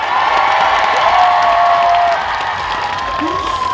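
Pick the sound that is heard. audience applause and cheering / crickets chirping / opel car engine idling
audience applause and cheering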